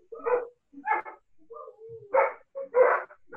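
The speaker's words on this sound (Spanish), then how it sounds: "Dani, te voy a poner en mute para que no escuchemos los perros que están afuera." Dogs bark outside in a short series of sharp, separate barks with brief gaps between them, fairly distinct and without talk over them.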